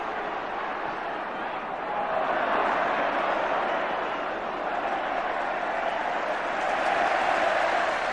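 A large terrace crowd on the Kop at Anfield applauds steadily through a 1986/87 Liverpool versus Everton First Division game, a broad, distant roar of clapping that swells slightly partway through and holds to the end.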